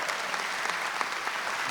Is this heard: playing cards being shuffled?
no